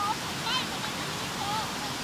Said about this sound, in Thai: พาเด็กๆมาเที่ยวน้ำตก